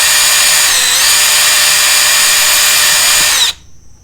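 A power drill spins a 7/64 bit into material while fitting a jet kit on a Suzuki DRZ400SM motorcycle, giving a loud, close, steady whine that cuts off abruptly near the end.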